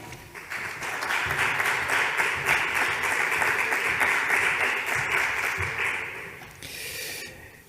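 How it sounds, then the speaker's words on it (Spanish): An audience in a hall applauds a speaker introduced at a talk, a sustained wash of many hands clapping that rises quickly, holds steady and fades out near the end. "Un aplauso fuerte para él."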